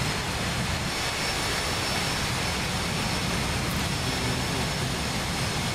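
Aircraft engine noise fills the air as a steady, broad roar that stays constant and fairly loud throughout, with no voices.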